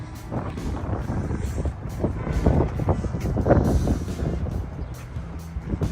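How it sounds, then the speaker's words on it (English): A train arrives at a railway station in Riga, a low rumbling drone that swells toward the middle with brief sharp clanks and squeals, heard outdoors over wind buffeting and without any talking. "And here comes a train."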